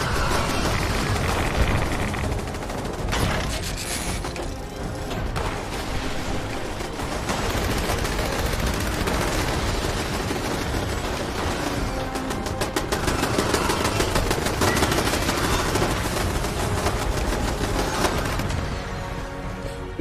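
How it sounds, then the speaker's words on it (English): A Gauss minigun firing in Fallout 76: a sustained, dense roar of rapid-fire shots with a whirring mechanical drone, loud and close, running almost unbroken for about twenty seconds. "This is the Gauss minigun."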